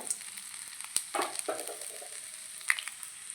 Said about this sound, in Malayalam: ഇഞ്ചി ഇട്ടെടുത്തു ഒന്ന് നന്നായിട്ട് മൂത്ത് വരട്ടെ